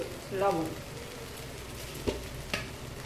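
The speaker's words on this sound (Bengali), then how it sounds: "এবার কিন্তু এটাকে একটু বেশ ভালো করে ভেজে নিতে হবে।" Chopped vegetables fry in a pan for khichuri with a quiet, even sizzle, broken by a brief voice near the start and two sharp clicks of a utensil later on.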